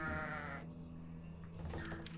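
Sheep bleating in the board game Agricola: All Creatures Big and Small, a single drawn-out bleat that trails into quieter wavering sounds, close and clear with no talk.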